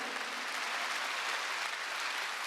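A church congregation at a Wednesday worship service applauds, a dense, even wash of many hands clapping that holds steady throughout at moderate distance.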